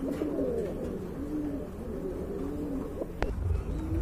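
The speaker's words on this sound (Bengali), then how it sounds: "এটা বিগ সাইজের রানিং কবুতর" Large racing pigeons at a market coo in repeated low, throaty warbling phrases, several birds overlapping close by, with a brief knock and some rustling near the end.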